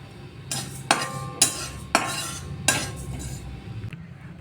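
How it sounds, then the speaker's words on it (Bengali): Panch phoron spices dry-roasting in a dry pan, heard as a series of sharp metallic scrapes and clinks of a spoon stirring against the pan, about five distinct strokes over a soft background hiss. "এবার আমরা শুকনো খোলায় পাঁচফোড়নটাকে ভেজে নেব।"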